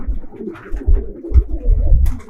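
Close, loud cooing from a racing pigeon in a Bangladeshi pigeon loft, a few low throaty coos in a soft rolling rhythm with no voices.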